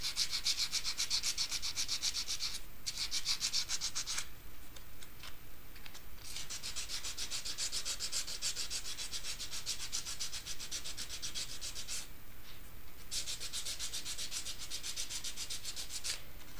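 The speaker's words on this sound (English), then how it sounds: "So I'm just gonna rip some of this sandpaper that I have without any packing." Silver wire hand-sanded with torn sandpaper, no backing, for a wire cuff frame: steady, close scratchy rubbing strokes in a fast even rhythm, continuing throughout with a few brief pauses.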